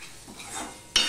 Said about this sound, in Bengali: বরবটিটাও মশলার সাথে একটু কষাতে হবে